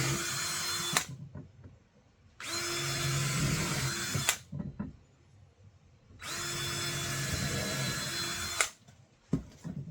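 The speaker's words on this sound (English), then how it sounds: "then I'm gonna drill it from the front side." A power drill boring into wood for a rustic wooden hat rack: two long, loud whirring bursts separated by quieter pauses filled with light handling clatter and clicks.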